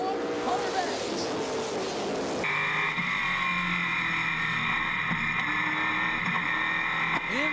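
ARCA/CRA Super Series stock cars roar around Flat Rock Speedway as a steady, droning pack of engines with shifting whine, while a race announcer talks continuously over the noise.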